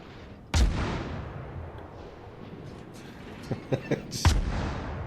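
Naval gunfire in the World of Warships game, two heavy booming salvos several seconds apart with a cluster of smaller cracks between them, loud over a low rumbling game background.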